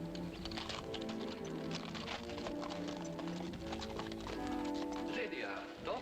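Horse hooves clip-clop steadily for a ride setting off, the rhythmic beats running under dialogue, music and background noise throughout.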